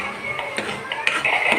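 A spoon scrapes and clinks against a pan as curry paste for boondi kura is stirred and fried, giving short metallic scrapes in an uneven rhythm, close and fairly loud, with faint voice-like tones underneath.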